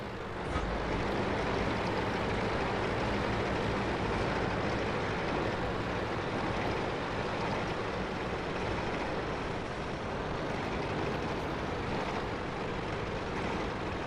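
A fast-moving light tank in World of Tanks, its engine and treads giving a steady, loud, broadband rumble that holds without a break the whole time, with no voices.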